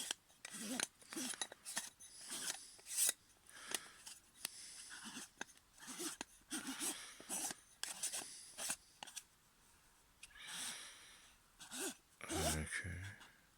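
Metal front cover on an OpticStar AR90S 90mm refractor telescope gives quiet, close scraping and clicking bursts as it is screwed on, faint and irregular in short strokes, with a soft breath near the end.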